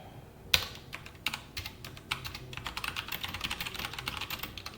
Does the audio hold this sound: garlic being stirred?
no